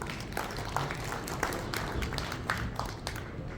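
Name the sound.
applause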